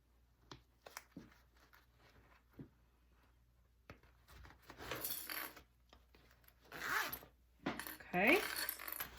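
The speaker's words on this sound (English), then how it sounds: "I'm going to reinstall my zipper real quick." A zipper on a backpack is pulled in short, quiet zips and rasps, with light handling clicks in between. The sounds are close and grow louder toward the end.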